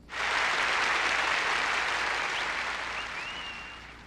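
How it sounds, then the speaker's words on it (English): Applause sound effect from the video game C.A.S.T.L.E.: a dense, steady crowd of clapping swells in at once, holds loud and continuous, then gently thins toward the end. "let me give you a round of applause"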